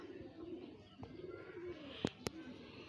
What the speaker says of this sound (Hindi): बड़ी ही लाजवाब माशाल्लाह एंटीक कबूतरी हैं